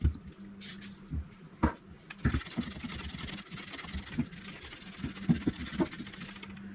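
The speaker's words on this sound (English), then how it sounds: "It's going to take a little bit of work, so I'm going to keep scrubbing on it." Scrubbing an exhaust muffler on a side-by-side UTV to clean it: steady rough rubbing and brushing strokes close by, continuous with a few sharper scrapes and knocks.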